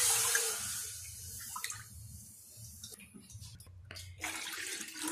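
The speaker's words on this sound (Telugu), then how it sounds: "ఒక ప్యాన్ పెట్టుకొని 3 కప్స్ వాటర్ యాడ్ చేసుకోండి" About three cups of water are poured into a cooking pan, making uneven splashing and gurgling bursts with short pauses, fairly close and moderately quiet.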